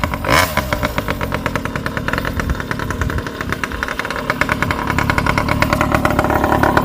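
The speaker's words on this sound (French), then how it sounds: "un coup de gaz au starter." A moped engine revs with the throttle opened while on choke, a loud, close two-stroke rattle that pulses rapidly and builds slightly toward the end.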